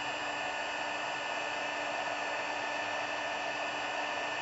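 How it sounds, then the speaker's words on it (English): An embossing heat gun blows hot air onto embossing powder during card making, a steady, unbroken whooshing roar that holds at constant loudness for the whole stretch with no talking. "this is embossing powder and an embossing gun."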